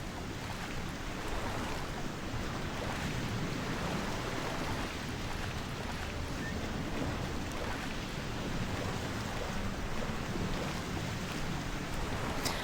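Waves lapping at a harbor town in the video game Gothic II, a constant broad wash of surf and water noise, steady and moderately quiet with no speech.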